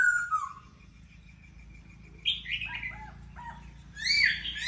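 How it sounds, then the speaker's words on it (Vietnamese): A laughingthrush sings in a varied, multi-toned voice, giving several separate bright whistled and chirping phrases, clear and fairly close, with quiet gaps between them and no talking. "Nó hót giọng nhiều lắm, nhiều giọng lắm."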